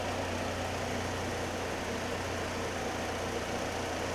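A 2012 Chevrolet Malibu's 2.4-liter gasoline engine idles with a faint, steady, even hum and no variation throughout.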